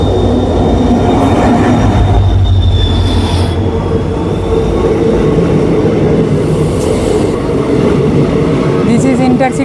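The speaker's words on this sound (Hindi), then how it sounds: "दिस इज़ इंटरसिटी एक्सप्रेस जो न्यू अलीपुरद्वार से मरियानी के भी ट्रेन चलती है।" The New Alipurduar–Mariani Intercity Express passes close by at a station in Assam, a loud, continuous rumble of rolling wheels and clattering carriages with brief squeals, and voices speaking over it.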